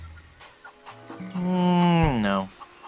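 Cartoon chickens in the video game Curse of the Monkey Island cluck in short bursts, then one lets out a loud, drawn-out squawk that rises and breaks off, heard up close and alone.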